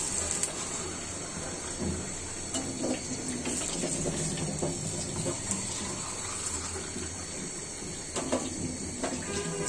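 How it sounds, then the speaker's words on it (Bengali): Water is poured into a simmering pumpkin and rui fish curry, a continuous soft gushing and splashing stream at moderate distance, with faint kitchen clatter and no talking. "পানি দিয়ে দিচ্ছি,"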